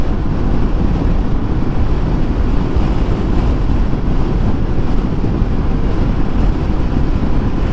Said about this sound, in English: Definitely feel that the wind's up though.